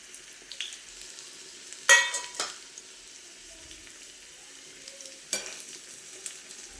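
Spices fry gently in a clay pot for a Kerala fish curry, a quiet low sizzle marked by a few distinct scraping stirs and clinks against the pot, close and without speech.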